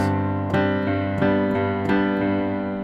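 Piano chords struck in a plain back-and-forth rhythm with no offbeats, four evenly spaced sustained chords ringing into each other, close and clear with no voices.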